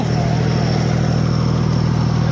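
A tractor engine roars at a constant, heavy, throbbing pitch while hauling a trolley in a village pulling contest at Kotra Kalan, Mansa, loud and close without a break.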